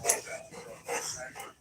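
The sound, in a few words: puppy dog whimpering and barking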